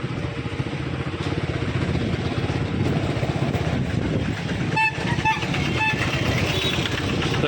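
A motorcycle engine putters steadily while parking on a crowded road near a puja gathering, with a low rhythmic idle, the noise of a busy street, and several short vehicle horn toots partway through.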